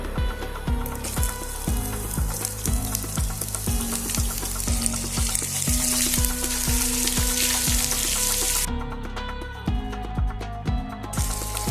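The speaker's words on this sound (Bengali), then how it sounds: "পেঁয়াজটাকে আমরা গোল্ডেন ব্রাউন করে ভালো করে ভেজে নেব।" Sliced onions, four medium ones, fry in hot oil while being cooked to golden brown for a quail bhuna. A steady close sizzle runs throughout, with repeated scraping and stirring strokes of a spatula against the pan.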